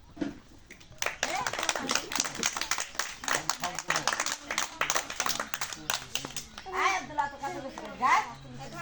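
Spectators at a travelling circus and magic show in a village clap for the performers. Bursts of close, uneven hand clapping are mixed with children's voices, and talking takes over near the end.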